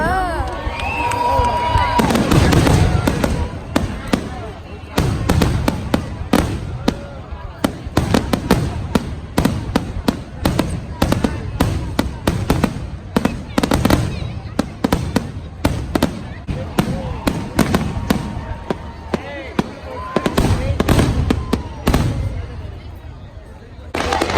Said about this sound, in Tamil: அங்க பட்டாசு